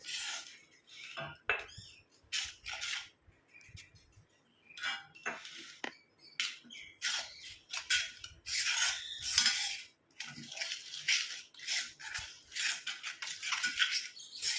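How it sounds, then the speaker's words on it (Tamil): Homemade herbal hair dye mixture being stirred in a bowl as a decoction is poured in bit by bit, with repeated close scraping, clinking strokes in an irregular rhythm and no talking. "கொஞ்சம் கொஞ்சமாக அந்த டிகாஷனை ஊற்றி நம்ம கலந்து விட்டுக்கலாம்"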